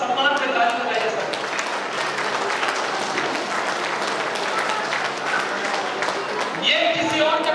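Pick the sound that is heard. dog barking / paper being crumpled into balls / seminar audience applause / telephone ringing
seminar audience applause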